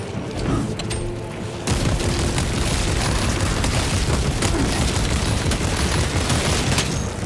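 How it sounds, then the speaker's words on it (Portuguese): Dense, continuous gunfire in the video game Space Marine 2, with heavy booming bursts, loud and close, rattling on without pause after a brief quieter start. "É muitos tiros."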